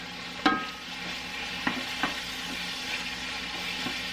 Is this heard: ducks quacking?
no